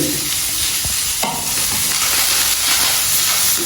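Curry leaves fry in a hot pan for a Jaffna-style fish curry, giving a loud, continuous crackling sizzle with a few stirring scrapes and spoon knocks close up, with no talking.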